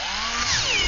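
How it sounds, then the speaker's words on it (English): Power drill pre-drilling screw holes in the wooden bottom of a birdhouse, a short steady whine that rises in pitch as the motor speeds up, close and alone. "Install bottom and pre-drill for screws one at a time."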